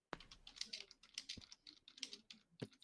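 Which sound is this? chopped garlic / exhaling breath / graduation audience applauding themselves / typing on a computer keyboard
typing on a computer keyboard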